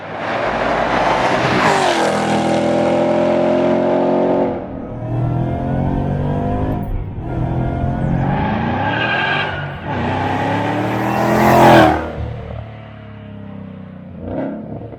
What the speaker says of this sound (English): This is a 2014 Mustang GT with VMP's Eaton-style Supercharger, a catless full exhaust, and a tune.